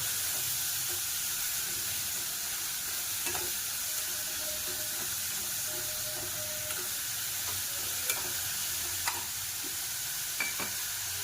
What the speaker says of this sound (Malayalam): പിന്നെ കറിവേപ്പില ഇട്ടു.